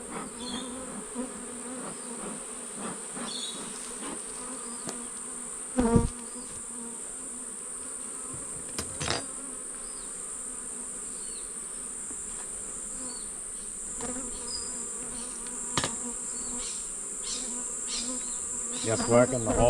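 Honey bees buzz continuously, close and steady, while a beehive is opened and worked, with occasional soft knocks and clicks from handling the frames.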